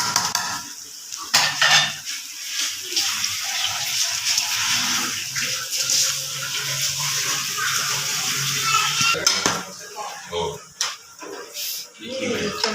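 Rice being stirred in a metal pot with a ladle, spoon scrapes and clinks up close, while pakoras sizzle in hot oil to one side, all under steady kitchen noise.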